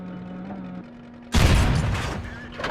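World of Tanks gameplay with a tank cannon firing: a sudden loud boom with a sharp blast that rings out and decays over a second, after a steady engine hum, with faint talk.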